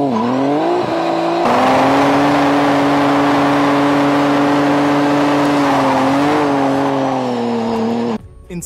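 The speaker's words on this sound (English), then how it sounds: "Smokey hits 197 miles per hour on a UK highway in his gold Supra" A gold 1990s Toyota Supra roaring flat out on a UK highway near 197 mph, its engine holding a loud steady high-revving drone with a brief pitch dip and rise before cutting off abruptly near the end.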